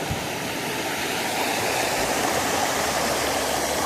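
A mountain river rushing down a natural rock water slide into a swimming hole, a loud, steady broadband roar of churning water, close and constant.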